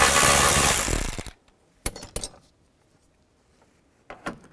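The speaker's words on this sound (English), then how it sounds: "Take this screw out right here and just use a 10 millimeter socket." Ratchet or power driver with a 10 mm socket backing a screw out of an interior door handle on a Nissan Xterra, giving a loud whirring burst and then a few short clicks and rattles close by.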